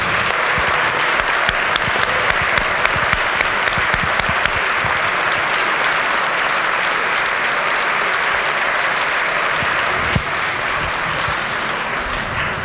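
Applause fills a legislature chamber, welcoming honoured guests; sustained, loud, even clapping from many people continues throughout without pause.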